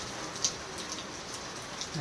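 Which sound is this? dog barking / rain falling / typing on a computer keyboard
rain falling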